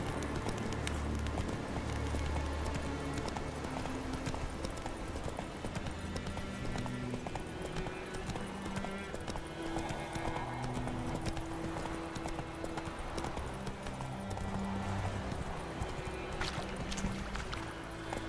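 A horse gallops in The Witcher 3 with a steady, rapid clip-clop of hooves that continues throughout, set under a dense game soundscape of ambient music and environmental noise.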